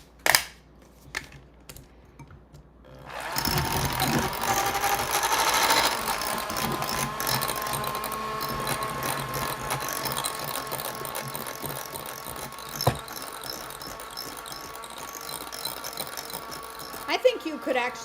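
A handheld battery-operated mixer whirs steadily while a no-bake strawberry cheesecake filling is mixed, its motor hum starting after a few clicks and running close and continuous for the rest of the clip.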